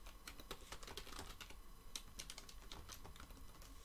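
Computer keyboard typing while entering Python code in Blender: quick, irregular key clicks and taps, close and steady throughout, with no talking.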